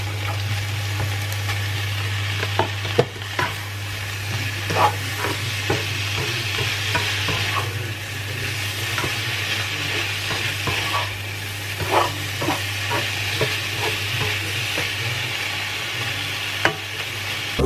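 Shrimp and pre-boiled broccoli stir-frying in a pan, a steady sizzle with repeated clacks and scrapes of a utensil tossing the food, plus a low constant hum underneath, no speech.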